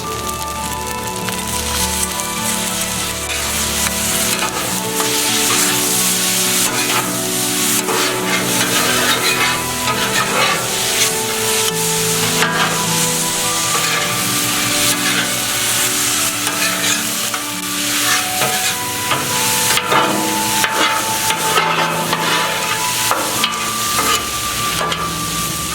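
Yakisoba noodles stir-frying in a hot pan after sauce is added, a steady loud sizzle with constant crackle and tossing that runs on without a break.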